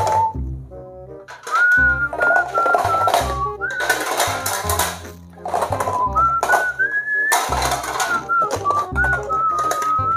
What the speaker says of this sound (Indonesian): Kok ibu jadi suka bersiul semenjak hamil ya?